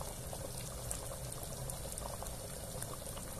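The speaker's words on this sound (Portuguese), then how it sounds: "observa o nosso caldo de moranga, já está fervendo" A pot of squash soup with charque and cream boils steadily, a continuous bubbling and gurgling hiss with soft pops, close and moderately quiet.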